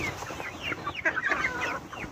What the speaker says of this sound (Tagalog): Tapos ito, mga sisiw natin na Rhode Island tsaka Black Australorp.